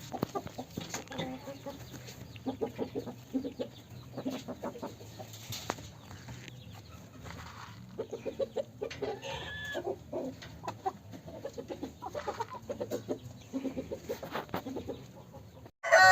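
Half-blood asil chickens and an ash-grey rooster in a coop cluck and chatter almost without pause at moderate distance, with a short crowing-like call partway through and a loud rattle at the very end.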